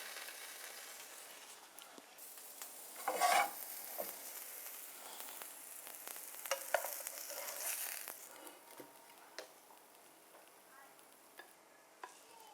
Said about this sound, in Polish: Placuszki smażę na średnim ogniu.